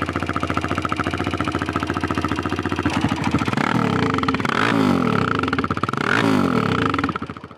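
A BBR KLX170 dirt bike engine runs close by, a loud, rapid, steady thumping idle that rises into several revs before cutting off abruptly at the end.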